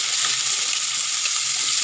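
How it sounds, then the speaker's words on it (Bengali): Constant loud sizzling of onion and cumin frying in hot oil in a pan, a dense hiss with no talking. "পেঁয়াজটা জিরেটা একটু ভালো করে ভেজে দেবো"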